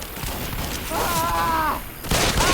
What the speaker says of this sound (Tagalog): binabaril ako